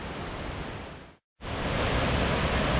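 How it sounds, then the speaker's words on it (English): A river flow or small waterfall cascade on a rocky Colombian river creates a dense, loud, steady rush of water, broken by one brief gap of near silence before the roar resumes. "It's hard to say whether it's just the flow of the river or a little cascade."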